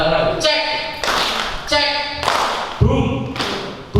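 A group plays an ice-breaking game, clapping in several short, sharp bursts that alternate with voices chanting together.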